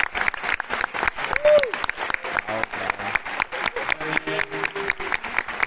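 Applause for a Philippine dance company at the closing of a Korean dance festival sounds as sharp, rhythmic clapping from the crowd, with cheers and a voice rising over it.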